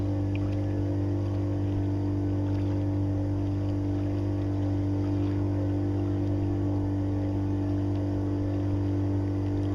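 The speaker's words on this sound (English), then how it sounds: "he's cranking the motor" A boat's outboard motor runs at speed, producing a loud, unbroken droning hum with a steady pitch throughout.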